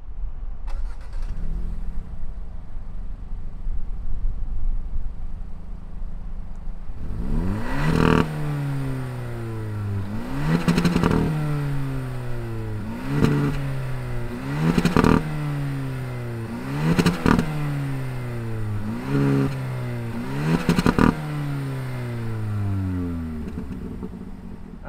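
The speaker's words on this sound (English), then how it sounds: "why don't we fire this up and hear if that exhaust makes any sound" A 2021 Hyundai Elantra N Line is fired up, its engine catching and settling to idle before a series of about eight sharp revs rise and fall through the exhaust, loud and close with no talking.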